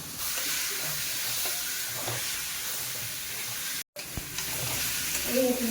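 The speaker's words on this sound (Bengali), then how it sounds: "এবার ভেজে রাখা আলু মশলার মধ্যে দেবো" Fried potatoes are stirred into a spice paste frying in oil for a fish curry, producing a steady, close sizzle with scraping stirs and a brief dropout partway through.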